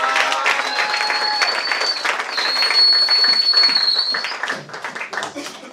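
Church congregation applauding, a dense continuous patter of clapping with a few crowd voices and a sustained high tone running through it.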